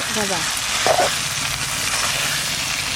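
Duck meat with spices frying in its own released oil, a dense steady sizzle with a brief scraping stir partway through, close and fairly loud.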